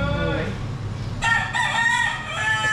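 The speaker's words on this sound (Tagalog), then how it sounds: "sorry, nakikijuwit yung manok." A rooster crows loudly nearby, a long drawn-out call with a faint cluck before it and steady background noise.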